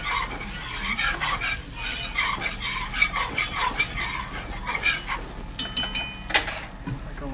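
A roux of self-rising flour and bacon grease is stirred in a pan, with repeated scraping strokes and clinks of a utensil against the pan in an uneven rhythm over a faint background hum.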